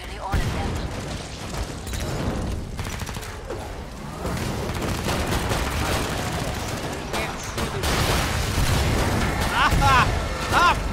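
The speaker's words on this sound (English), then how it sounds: "Why are there so many explosions?" Explosions and gunfire from the Killing Floor 2 zombie shooter game, a dense, continuous barrage of booms and rapid shots with players talking over it.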